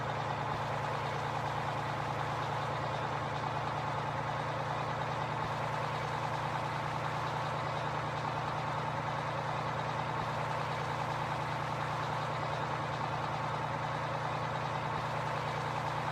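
Two trucks run steadily in Farming Simulator 15 during an Oklahoma harvest, a constant low engine hum and idle drone that holds evenly throughout with no talk over it.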